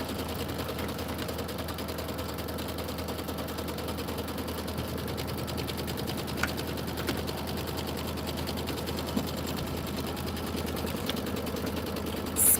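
An embroidery sewing machine stitches the first step of a Kimberbell tiling scene design, producing a steady, fast mechanical whirr and rattle that continues unbroken and close by, with no talking.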